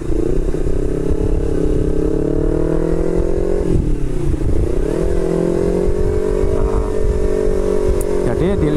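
Motorcycle engine rumbling and revving in a traffic jam, close and loud, with surrounding vehicle clatter and a voice talking over the steady engine drone.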